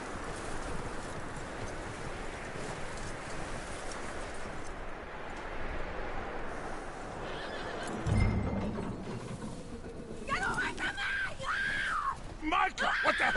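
A horse whinnies and neighs loudly near the end, with hoofbeats and an ambient outdoor bed earlier and a thump around the midpoint, in Red Dead Redemption 2.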